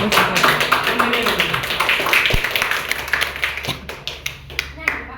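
A classroom full of students clapping together in a lively burst, loud and close, with voices mixed in and the claps thinning toward the end.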